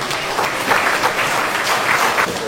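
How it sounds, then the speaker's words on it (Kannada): Applause from an audience at a Kannada literary council felicitation ceremony in Honnavar, a dense, continuous crowd of clapping hands, fairly loud and steady throughout with no talk. "ಎಲ್ಲರಿಗೂ ನಿಮ್ಮ ಒಂದು ವಿಶೇಷ ಚಪ್ಪಾಳೆಗಳನ್ನು"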